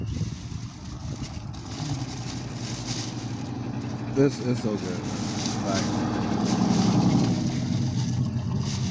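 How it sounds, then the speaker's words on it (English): Loud cars rumble past on a street, engine noise swelling and fading over several seconds under steady close talk from people eating. "why everybody just keep driving with these loud behind cars?"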